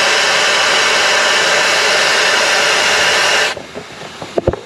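Compressed air rushes out through an onboard four-way valve, deflating all four tires at once in a loud, steady hiss that cuts off abruptly, followed by a few faint clicks and handling noises.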